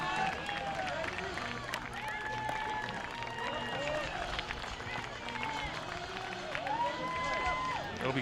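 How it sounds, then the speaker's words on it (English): A high school baseball crowd at a CIF-SS game between Pasadena and Arcadia cheering after a three-run home run to right field, a distant steady roar of voices and scattered clapping beneath a commentator's talk. "Crowd is on their feet here."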